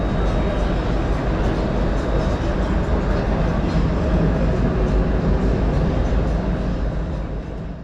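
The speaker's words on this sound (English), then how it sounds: "these trams and metro, they accelerate really quickly to throw you off your feet." A Dubai tram or metro accelerates, giving a loud, steady rumble and rushing roar heard from inside that holds for several seconds before easing slightly.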